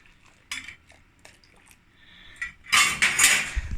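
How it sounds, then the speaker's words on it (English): Milk is stirred in a pot on the stove while paneer is made, just after citric acid and water go in. Soft scraping and light metallic clinks come first, then louder, busier clattering toward the end. "I'm going to stir it for 10 to 15 seconds"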